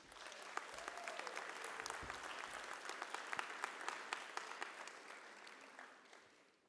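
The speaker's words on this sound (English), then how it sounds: "Let's give them a round of applause, please." Audience applause at a Bowie State University fall convocation, sustained clapping from a large crowd filling the hall, steady and dense before tapering off near the end.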